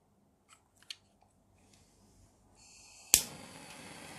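A Caliber M1851 gas lighter, just refilled, is lit with a sharp click followed by a loud, steady hiss of strong flame that continues to the end, after a few faint handling clicks.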